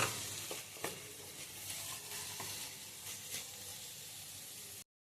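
Ginger and garlic frying in a pan for a dhaba-style egg fry, a steady close sizzle with a few scraping stirs of a spoon, no voices.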